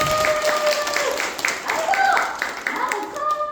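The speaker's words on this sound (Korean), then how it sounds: "박수!" Audience applause and clapping at a public talk event in Daegu, a steady wash of hands from a seated crowd, with voices mixed in.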